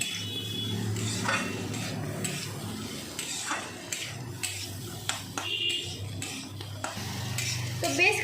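Boiled chickpeas stirred into spiced masala in a pan, with close spoon scrapes and clinks against metal and a light sizzle beneath, while a voice talks over parts of it.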